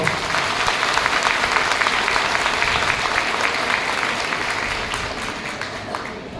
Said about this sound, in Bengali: আমরা সবাই মিলে তাদের জন্য একটা ছোট জোরে হাততালি দেব